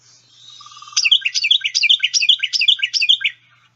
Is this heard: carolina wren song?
yes